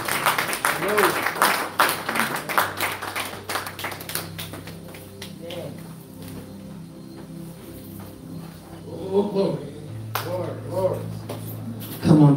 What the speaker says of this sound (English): let's clap our hands for Jesus Christ